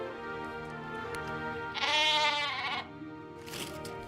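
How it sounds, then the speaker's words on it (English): A sheep-like creature bleats in the point-and-click adventure game The Book of Unwritten Tales 2, one wavering bleat of about a second, with a short second call near the end over a steady music bed. "I've thought a few times about whether I should try to fully transform Friedlin into a sheep or back into a rabbit."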